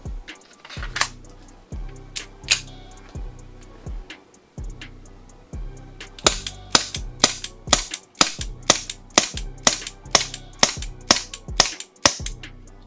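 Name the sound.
Umarex VFC Walther PPK/S gas airsoft pistol firing BBs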